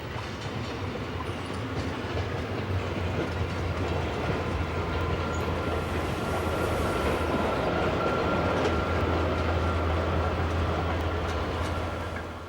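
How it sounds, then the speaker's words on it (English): A train hauled by a Class 260 diesel locomotive running along the Rhine, a steady loud rumble with engine drone and rolling clatter of wheels on track that stays close and constant throughout, no talk. "Eventually, they return with a more conventional train propelled by a Class 260 diesel."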